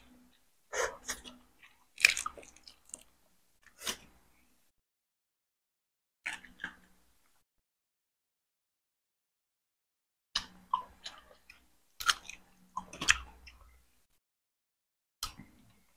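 Chewing on boiled chicken with fish sauce and spicy jaew dip, heard as close, wet bites and crunches in scattered bursts with quiet gaps between them and no talking.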